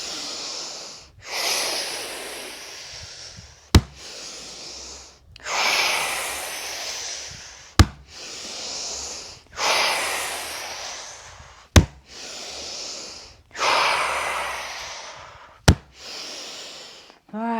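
Rhythmic qigong breathing, long loud inhales and exhales alternating, each cycle punctuated by a single sharp thump of fists pounding the body, about four times, close and with no talk.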